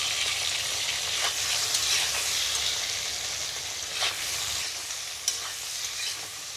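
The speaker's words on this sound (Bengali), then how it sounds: "বেগুনটা হালকা করে একটু নাড়াচাড়া দিয়ে ভেজে নেব" Eggplant seasoned with salt and turmeric fries in hot oil while being stirred, a loud continuous close sizzle with occasional scraping strokes and clicks, no voices.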